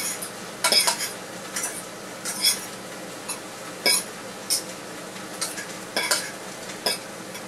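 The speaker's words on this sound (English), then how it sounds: "we just mix it around until the butter melts throughout all the rice" A utensil scrapes and clinks against a pan as rice is stirred with melting butter, the taps irregular and close over a soft background sizzle.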